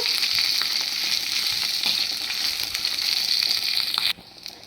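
Dried red chillies, coriander seeds, cumin and curry leaves fry in a pan for a gongura chutney, giving a steady, close, bright sizzle that continues without a break until it drops away abruptly near the end.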